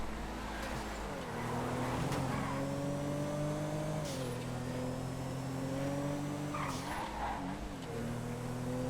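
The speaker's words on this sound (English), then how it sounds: "The Premier is so nice to drive for a front wheel drive car." A Premier front-wheel-drive car is driven in GTA FiveM, its engine note climbing and dropping through gear changes, steady and close, with a faint tire squeal.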